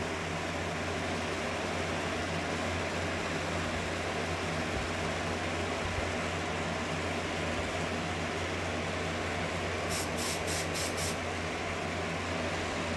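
Aerosol test spray hissing into a smoke detector housing in a home fire alarm system, a steady broadband hiss over a constant low hum lasting most of the stretch, with a few brief ticking bursts near the end.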